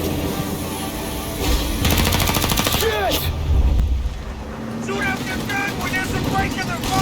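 A gunfight plays out in Mafia: Definitive Edition with rapid bursts of automatic fire and single sharp shots over engine rumble, close and loud, while voices shout over the action.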